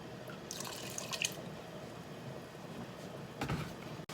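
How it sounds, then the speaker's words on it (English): White distilled vinegar poured onto diced tomatoes for salsa, a soft liquid splash in two brief bursts over quiet room tone. "I'm going to add a 1/2 cup of my white distilled vinegar."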